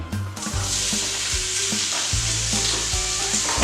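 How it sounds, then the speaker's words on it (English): A whole sliced onion hitting about a tablespoon of hot sunflower or vegetable oil bursts into loud, dense sizzling, with repeated scraping thumps of a utensil stirring it close by throughout. "I'm going to pop just about a tablespoon of sunflower or vegetable oil. Into that I'm going to put a whole sliced onion."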